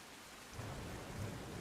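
Heavy rain pours steadily on Raiya Road in Rajkot, a dense hiss of downpour with a low rumble swelling midway, suggesting thunder or distant vehicle noise, no voices.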